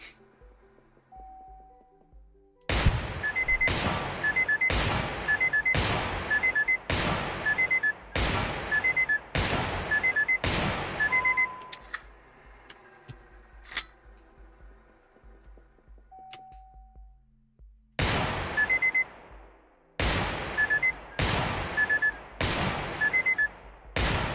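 Sharp, loud gunshots from the video game Receiver 2 crack in evenly spaced runs, about nine in quick succession, then a pause and a second burst of five or so, with no talk.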